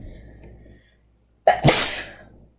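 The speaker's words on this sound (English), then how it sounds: "I gotta sneeze." A single loud, close human sneeze bursts out after a quiet breathy lead-in, with no talk around it.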